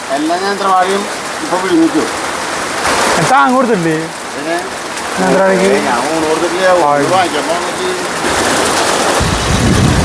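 Steady heavy rain hisses throughout with a gusty, roaring wind, while a person talks over it close by.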